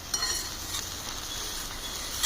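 Bread crumbs being stirred with butter in a pan on a gas stove. Soft scraping and faint sizzling crackle continue steadily at close range, with a few small clicks.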